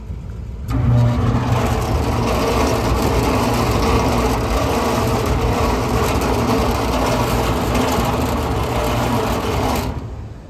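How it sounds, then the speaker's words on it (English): A motor fitted with a new capacitor, switched on by pushing in a contactor, gives a loud steady hum and whine that runs unchanged for about nine seconds and then cuts off. "let's see if we can at least get that motor started now"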